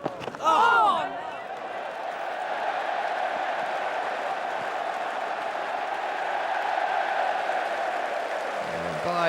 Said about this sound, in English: the crowd is going absolutely berserk.